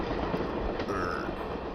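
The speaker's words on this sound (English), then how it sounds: "I wake up in the compartment of a train." Steady, muffled rumble of a train rolling along, heard from inside a passenger compartment, with a continuous low drone and no distinct clicks or voices.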